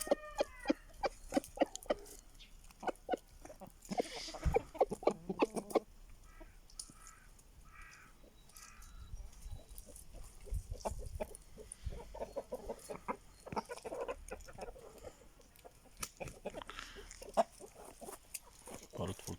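Aseel chickens cluck in a yard, with a red hen among them. The short clucks and calls come in scattered bursts, fairly close, over steady farmyard noise, and a voice speaks faintly now and then.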